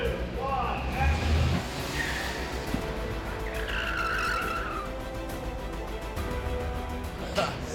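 A car skids with sharp tire squeals during stunt filming of a car chase for Captain America: Civil War. Several squeals rise and fall, the longest near the middle, over a steady engine and street rumble.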